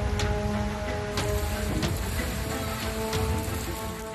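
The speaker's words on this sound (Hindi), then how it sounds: "झमाझम बारिश की ये तस्वीरें मलाड की हैं, जहां लगातार तेज हवाओं के साथ आसमान से आफत बरस रही है।" Heavy rain falls steadily in Malad, Mumbai, amid strong winds, a dense constant hiss of drops with a low background rumble and a few sharper splashes.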